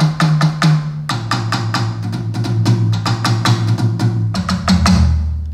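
Roland TD-17KV electronic drum kit, head and rim strikes alternating in a steady played pattern of clear, close, punchy hits with pitched tones sounding alone.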